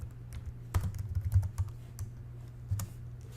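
Quick, light keystrokes on a computer keyboard as a short search term is typed, a brief cluster of taps followed by a lone click, soft and close with no talking.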